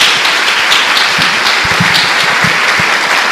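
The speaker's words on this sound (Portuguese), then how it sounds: "Dê uma salva de palmas a Jesus." Church congregation applauding together, a dense steady wash of clapping hands filling the room at a consistent loud level with no speech over it.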